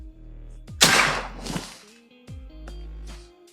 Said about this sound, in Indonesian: Lanjut untuk tembakan kedua.